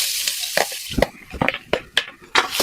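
Chopped garlic hitting hot oil in a frying pan, with close, crackling sizzle bursts and scraping stir strokes coming in quick, uneven pulses.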